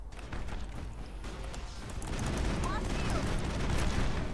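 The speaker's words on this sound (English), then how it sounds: "That's a machine gun." Sustained automatic gunfire from a machine gun in the video game Mass Effect, a dense rapid crackle that grows louder and steadier partway through, with faint game sounds underneath.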